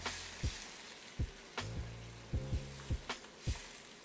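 Steak bites drop into beef broth and wine simmering in a pan. Faint, scattered pops and crackles sound over a low bubbling background at an irregular pace.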